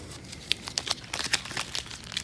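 Vinyl application tape peeling away, a close crinkling, crackling rustle that rises and falls in short bursts over a couple of seconds, with no talking.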